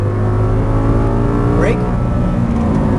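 An Audi R8 accelerates hard on a race track at an exotic-car driving experience in Las Vegas, a loud steady engine drone with a rising tone near the middle, while a driving instructor talks over it.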